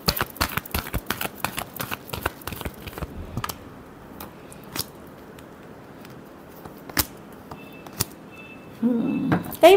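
Tarot cards being shuffled: a quick run of dry flicking snaps for a few seconds, then scattered single card taps, and a short soft riffle at the end.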